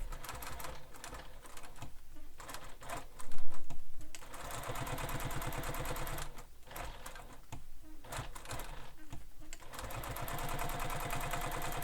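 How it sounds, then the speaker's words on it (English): A sewing machine basting with a long stitch runs in a steady rapid mechanical chatter throughout, dropping briefly into short pauses between stretches of stitching. "we're going to baste these together. And basting, I'm using a longer stitch length"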